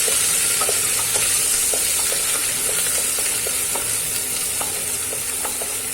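Ginger, garlic and chili paste being stirred into a sizzling sweet potato curry base in a hot pan, with steady frying hiss and repeated light spoon scrapes and taps against the pan, close and without speech.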